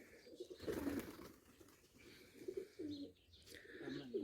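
Village pigeons let out of their coop to feed, cooing in soft, intermittent low bursts at a modest distance, no talk over them.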